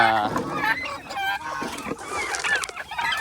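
Chickens cluck and squawk busily up close as they are fed yellow corn, a lively flock calling over one another, with a voice briefly mixed in.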